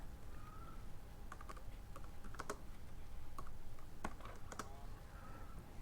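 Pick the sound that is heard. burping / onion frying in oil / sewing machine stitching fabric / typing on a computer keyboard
typing on a computer keyboard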